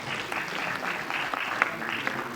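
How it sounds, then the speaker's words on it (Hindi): A crowd claps at an awards ceremony honouring people who helped keep a city clean, as a shopkeepers' association receives second prize; steady, moderately loud applause runs continuously through the moment. "एक बार जोरदार तालियां।"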